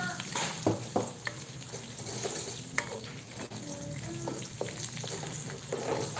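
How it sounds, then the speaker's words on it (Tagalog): Onions sauté in a pan, a constant close sizzle and hiss with occasional scrapes and clatters of a utensil, and faint voices in the background. "gigisa na tayo ng ating sibuyas"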